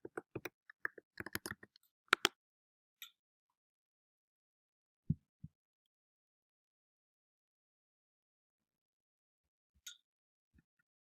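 A burst of soft key clicks on a Mac keyboard as a password is entered, a quick cluster of taps at the start followed by a few isolated clicks spread out in a quiet room.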